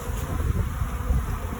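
A swarm of honeybees buzzes in a back yard, a continuous low droning hum with slight wind rustle, steady and fairly close with no voices.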